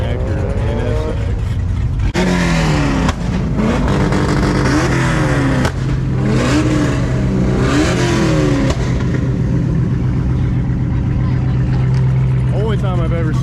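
An Acura NSX sports car drives past and revs, its engine note rising and falling in repeated loud sweeps, with voices faintly present.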